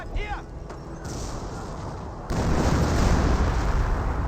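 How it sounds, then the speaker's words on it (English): An officer artillery barrage lands in Company of Heroes 1 as a heavy rumbling boom that swells partway through and stays loud, with a voice talking over the battle noise. "It looks like officer artillery from the captain."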